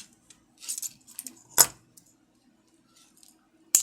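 A wire cutter snips jewelry wire for a herringbone pendant, a couple of sharp close metallic clicks among light jingling and handling sounds, with no talk.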